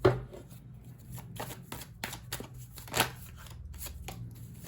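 Tarot cards are shuffled for a Hindi pick-a-card reading, giving a run of soft papery riffles and flicks with a sharper snap near the start and another midway, close and steady, with no talk.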